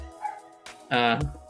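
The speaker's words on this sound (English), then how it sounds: "Excuse my dogs for barking." Dogs bark indoors in a few sharp, close yips and bow-wows, one loud bark standing out, with a voice talking around them.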